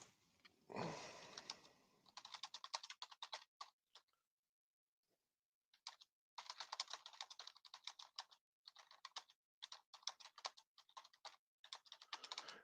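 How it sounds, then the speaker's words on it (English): Fast bursts of clicky typing on a computer keyboard, paused briefly partway through, then resuming in quick irregular runs; quiet and close. "I'm just typing in"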